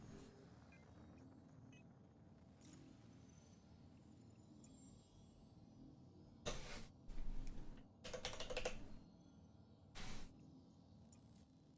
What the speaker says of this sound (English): My keyboard, you can hear it coming out.